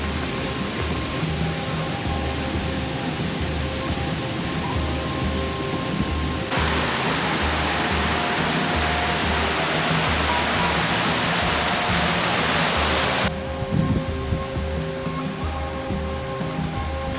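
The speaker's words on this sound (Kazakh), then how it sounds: "Түрген шатқалында әртүрлі биіктік пен қуатқа ие 7 сарқырама бар" Kairak waterfall in the Turgen gorge, a continuous loud roar of falling water that stays steady throughout, close by and filling the whole scene.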